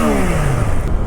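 A Triumph Daytona 660 motorcycle engine revs up loudly and close, its pitch sliding steadily in one continuous sweep with no talk over it.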